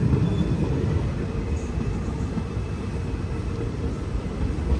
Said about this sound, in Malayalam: കോട്ടിക്കുളത്ത് നിന്ന് വണ്ടി എടുത്തു